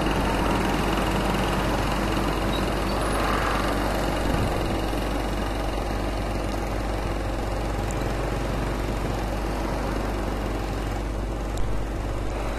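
Motorcycle-engine pedicab running on a street in Yogyakarta, Indonesia, a continuous low engine drone with steady road rumble at an even level and no talk.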